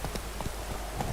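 Roach, a horse in The Witcher 3 video game, clip-clops in a few spaced hoofbeats over a steady low rumble that resembles rain.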